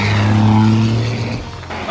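A 6BT turbo diesel engine in a stick-shift coal-rolling truck revs hard with a deep, steady low drone that eases off after about a second and a half, then rises again faintly.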